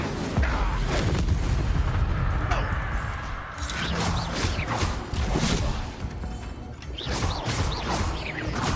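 Incendio fire spell cast in the video game Hogwarts Legacy amid other combat magic: loud, dense bursts of whooshing, crackling blasts and booming impacts follow one another with barely a pause.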